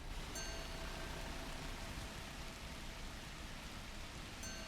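Steady rain falling from a rain cloud in the video game The Universim, a continuous soft broadband hiss that holds evenly throughout with no other sounds.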